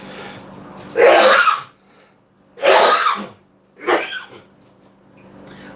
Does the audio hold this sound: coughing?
yes